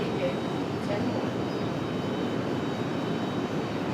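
A Republic Airways jet airliner passing at Raleigh-Durham airport, a broad, steady engine roar that stays constant with a voice faintly in the background.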